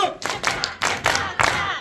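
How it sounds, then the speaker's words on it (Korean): A cinema crowd at a film curtain-call stage greeting does 3-3-7 rhythmic clapping, sharp grouped bursts of many hands separated by brief gaps, close and lively with a few shouts mixed in. "337 박수"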